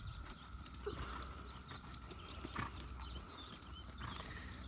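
A horse trotting outdoors during a riding session, its steady hoofbeats faint and fairly distant against background noise, with no talk over it.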